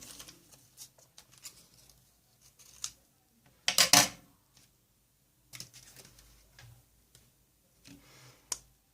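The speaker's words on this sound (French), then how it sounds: "ma petite Virginie, je coupe ton petit nom." Scissors snip through cardboard to cut out a name, giving scattered short clicks and snips, with a louder, denser burst of cutting near the middle and a sharp snip near the end; close, quiet and free of speech.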